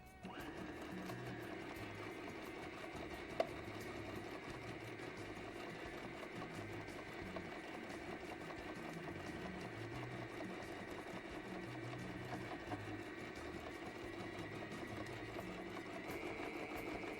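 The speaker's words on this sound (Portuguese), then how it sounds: "E agora eu vou para minha máquina costurar um pé de máquina nessa diagonal aqui." A sewing machine stitches a diagonal seam across patchwork in a steady, continuous mechanical whir at moderate volume, with one faint click early on.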